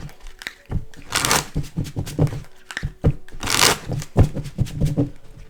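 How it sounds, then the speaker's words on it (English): Crisp riffling and slapping of playing cards, with short snaps and a couple of longer whooshing shuffles, close up and with no talking. "I've already pre-shuffled everything, but I'm going to get everything a nice fresh cut"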